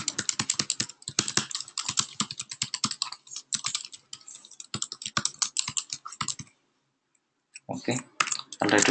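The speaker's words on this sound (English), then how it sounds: "Let's assume I'm typing something here." Rapid clicking of keys on a computer keyboard, bursts of fast typing going on for several seconds, a brief pause, then more keystrokes close and clear.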